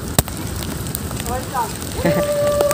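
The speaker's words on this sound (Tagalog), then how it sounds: "Yan, medyo maulan talaga. Malakas." Heavy rain pours steadily during a bike ride, a broad wash of noise running throughout with people talking over it.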